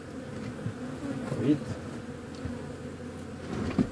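Honeybees buzz steadily around two hives that have just swarmed, a close, continuous insect drone with small thumps and handling noises, and a voice speaks briefly.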